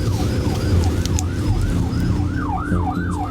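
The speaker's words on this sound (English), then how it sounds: "And for the 13th time this year, an ambulance has been called to help Michaela." An ambulance siren wails in a steady up-and-down cycle, loud and continuous, with road traffic rumbling beneath it.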